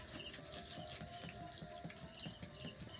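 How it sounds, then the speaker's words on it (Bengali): Water is poured steadily into a bell-metal bowl of tamarind, a soft continuous splashing and trickling at close range with no talk. "জলটা দিয়ে দেব।"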